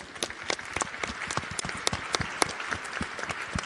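Audience applause for youth participants at an event on youth participation in the HIV response: a dense, steady wash of many hands clapping, fairly close and loud, with no talk over it.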